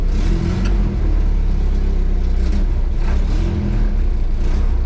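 Engine of a 1953 Willys Overland pickup running steadily as it reverses out of a garage, a continuous close, rumbling low-pitched drone with no talk over it.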